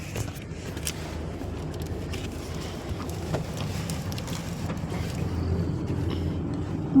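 Wind blows steadily, a constant low rumble with gusty buffeting against the microphone for about seven seconds, with no talking.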